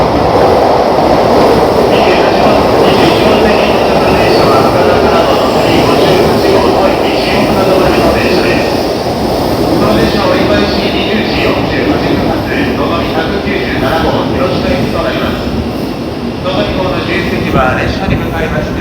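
A Tokaido Shinkansen N700A, set F19, runs into platform 21 at Shin-Osaka station with a loud, sustained rushing rumble and faint wheel squeal that eases toward the end, while a station announcement plays over it.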